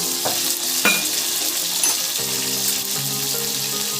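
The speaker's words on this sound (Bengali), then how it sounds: "আমি হালকা করে ভেজে নিয়েছি এবারে দিয়ে দিচ্ছি টমেটো কুচি" Chopped tomatoes go into a pan where whole cumin, dried red chilli and bay leaf have been lightly fried, setting off a steady loud sizzle with a few sharp splatters and stirring scrapes, no voices.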